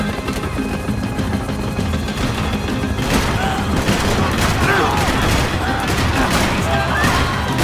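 Dense, continuous gunfire in the video game Max Payne 3, with rapid overlapping shots and bursts amid loud action noise, and game characters shouting over the barrage.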